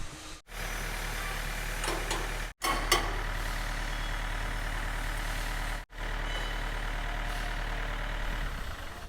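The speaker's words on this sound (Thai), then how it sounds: "เราจะติดตั้ง รถไถเข้าเครื่องเครื่องตัดนะครับ" A farm tractor hooked up to a sugarcane harvester, its engine running steadily with a low mechanical drone and intermittent reversing beeps, broken by a few brief cutouts.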